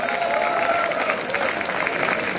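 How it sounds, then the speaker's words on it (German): A crowd at the finish of an event gives loud, dense, continuous applause, filling the whole stretch with a steady roar of clapping and a few faint voices mixed in. "Dicken Applaus."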